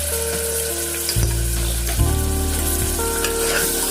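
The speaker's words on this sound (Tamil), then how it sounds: "இஞ்சி பூண்டு பேஸ்ட் போட்டுக்கணும்." Ginger garlic paste sizzles and fries in a pan for a chicken curry, a loud continuous crackle with stirring scrapes and a low hum close by, and no talking.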